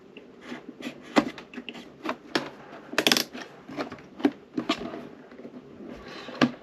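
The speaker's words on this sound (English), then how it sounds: "Oh, my fire hydrant fell out." A small miniature fire hydrant tumbles out of a wooden book nook, giving a run of sharp, close wooden clicks and knocks with one louder clatter midway, and no voices.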